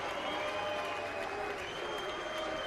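A clay-court tennis crowd at the 2012 French Open applauds steadily, a dense wash of clapping at even volume through the whole stretch with light murmuring mixed in.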